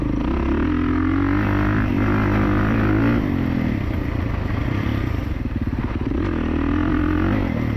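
A 2024 Kawasaki KX450 dirt bike engine runs steadily during a heat cycle, a loud, close, continuous buzzing drone with slight rises and dips in revs, no talking.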